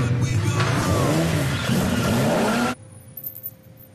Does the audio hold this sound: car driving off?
yes